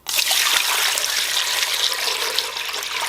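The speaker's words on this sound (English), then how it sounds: "Now you want to fill up a pot with a gallon of water." Tap water runs and splashes into a pot being filled with about a gallon of water, a steady broadband trickling pour that stays loud and close for the whole stretch, with no talking.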